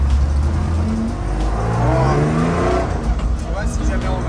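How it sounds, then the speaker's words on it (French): Loud Porsche rally car engine burbling and rumbling at low speed, a rough, continuous drone with slight rises in pitch, close by, with people talking over it. "ça fait trop de bruit parce qu'elle est faite pour le rallye."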